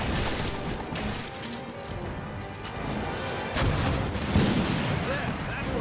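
Gunfire in the Resident Evil Revelations video game, a dense battle mix of shots and impacts running steadily through the clip with a heavier burst near the end, under game voices.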